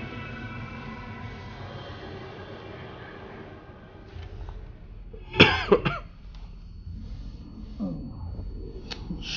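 A character coughs in a Far Cry 4 game scene, one short sharp burst of coughing midway over a steady low background rumble.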